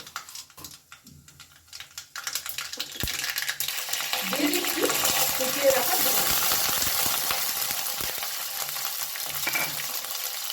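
Mixed white and black mustard seeds drop into hot oil left from frying peanuts. A quiet start gives way to loud, dense crackling and popping with sharp ticks that lasts to the end, close up and with no voice over it.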